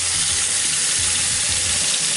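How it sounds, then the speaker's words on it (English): Warm tap water runs steadily into a container with dish soap for cleaning a makeup sponge, a continuous broadband rush at close range with no talking. "Then we're gonna fill this baby with some warm water."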